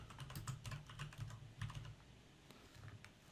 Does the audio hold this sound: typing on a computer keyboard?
yes